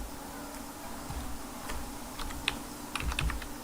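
Keys tapped on a computer keyboard while entering measurements into cabinet design software, a few quiet, scattered clicks spread over a few seconds, with faint room hum and no talking.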